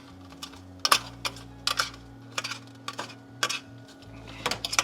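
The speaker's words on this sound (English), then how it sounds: "Give it a stir." Utensil stirring tofu in a pan during meal prep, a series of sharp clinks and scrapes against the cookware at close range, over a steady low kitchen hum.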